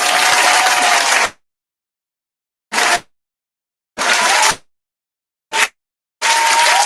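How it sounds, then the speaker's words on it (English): Audience on a runway show clapping in loud bursts, several rounds of applause separated by sudden silences, with no talk over them. "Let's clap."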